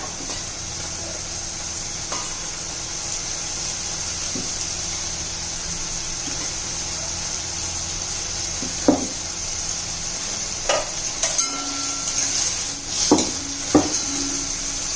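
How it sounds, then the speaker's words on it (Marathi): Peas and potatoes sautéing in hot oil give a constant sizzle with occasional scrapes and clinks of a utensil against the pan toward the end. "तेलामध्ये चांगला वाटाणा बटाटा परतून घेऊया"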